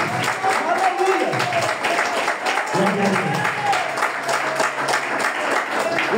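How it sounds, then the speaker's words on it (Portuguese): A church congregation at a worship service applauds in a strong, continuous burst of clapping, with a few voices calling out over it near the middle. "Dê a melhor salva de palmas que você puder."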